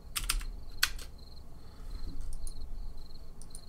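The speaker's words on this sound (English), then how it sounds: "Let's type it out." Keys on a computer keyboard clatter in short bursts of quick taps, close and fairly quiet, with pauses between groups and no voices.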